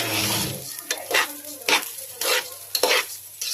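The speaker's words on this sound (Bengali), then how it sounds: "চালগুলো ভেজে নিচ্ছি, সুন্দর করে ভেজে রেখে দেবো।" Raw rice for pilau being fried and stirred in a large pot, soft sizzling with repeated scraping strokes of a spoon against the metal, close and rhythmic.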